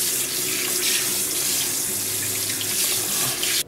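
Tap water runs steadily into a sink while skin is washed with a lavender-scented Lush soap, a continuous broad splashing rush from start to finish that cuts off abruptly at the very end.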